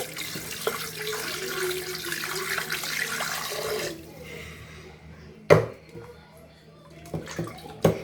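Chicken pieces are rinsed in a bowl of water, steady splashing and sloshing for about four seconds, then quieter moments broken by a few sharp sloshes and knocks close by.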